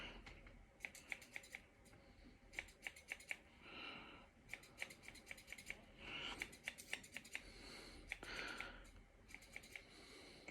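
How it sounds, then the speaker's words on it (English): Repeated crisp snipping of thinning scissors cutting hair at the back of the head, in quick bursts, close and quiet, with soft rustling between cuts and no talking. "I'm just going to go through with some thinning scissors at the back"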